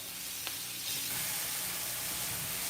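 Onions sizzling in oil in a pan, a steady close hiss that swells slightly as more oil is added, with a faint tap near the start.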